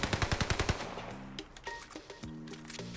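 Owen Gun submachine gun firing in Call of Duty Vanguard, a rapid burst of about a dozen quick shots followed by shorter bursts and clinking game sounds, fairly quiet overall.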